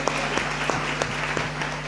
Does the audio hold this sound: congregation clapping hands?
yes